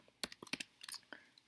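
Quick keystrokes on a computer keyboard while writing code, a short uneven burst of light clicks close by, with a few taps louder than the rest.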